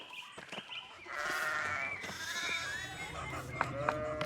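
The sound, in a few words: sheep bleating in the video game Pentiment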